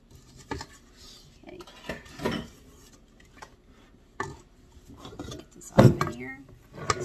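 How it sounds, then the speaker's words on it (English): Lemon pound cake batter with lemon zest being scraped from a mixing bowl: scattered utensil scrapes and clinks against the bowl, close and fairly quiet, in irregular bursts with gaps between. "I'm just going to try and scrape off of as much of this as I can"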